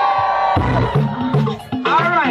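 Crowd at an outdoor Guyanese association fun day screams and cheers in loud bursts over music, with a voice calling out briefly at the start.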